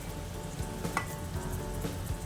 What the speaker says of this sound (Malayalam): അതെല്ലാം ഇട്ടൊന്ന് വാട്ടി പഴച്ചെടുക്കാം